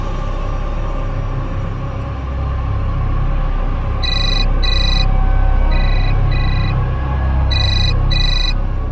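An unanswered phone rings in three pairs of electronic ringtone bursts, fairly loud over a constant low rumble.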